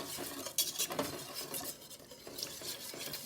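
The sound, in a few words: whisk stirring mac and cheese sauce in pot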